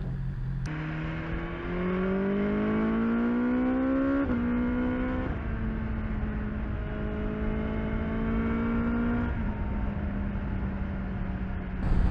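A 2021 BMW S1000XR motorcycle engine revs up through several gear changes, its pitch climbing then dropping at each shift, loud and steady with no talking.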